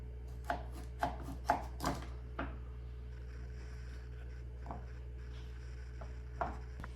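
A knife chops carrots sharply on a cutting board, several quick strikes in a row followed by a few scattered chops over a steady background hum.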